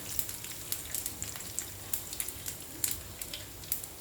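Peanuts frying in a pan on a gas stove, a steady soft sizzle with small irregular pops and crackles throughout, fairly quiet and close, with no talking.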